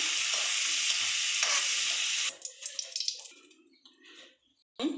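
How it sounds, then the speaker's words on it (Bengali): Bay leaf, nigella seeds and green chilies hit hot oil in a pan for a loud, hissing sizzle that cuts off after about two seconds, followed by softer scattered spits and a brief watery burst near the end. "আমি এখানে কালো জিরে তেজপাতা কাঁচা লঙ্কা ফোড়ন দিলাম"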